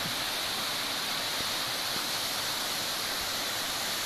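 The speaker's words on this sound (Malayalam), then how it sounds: "അപ്പോൾ ഇത് ഈ കാണുന്നതാണ് നമ്മുടെ വെള്ളച്ചാട്ടം." Karakkund Waterfalls in Kannur, with water pouring down from a rocky hilltop, makes a steady, dense rushing roar that never lets up, heard alone without voices.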